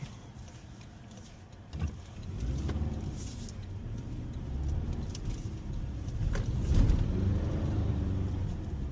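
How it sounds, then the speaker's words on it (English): A Toyota Tacoma truck accelerates in sport mode, its engine and road rumble heard from inside the cab, swelling in a couple of pulls with gear changes, moderately loud and steady, with no talking. "Yeah, it picks up pretty nicely in sport mode."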